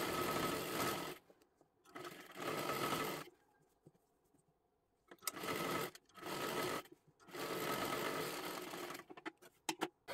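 Sewing machine stitching a princess blouse sleeve, running in several loud bursts of rapid needle clatter separated by short pauses.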